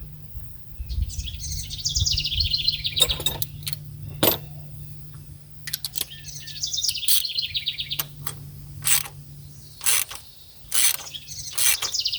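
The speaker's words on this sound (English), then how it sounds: "So let's try the puller again now." A puller tool is worked on the engine of a 1995 Dodge Ram 2500, with scattered metallic clinks, squeaky ratcheting bursts and sharp knocks coming in irregular spurts close by.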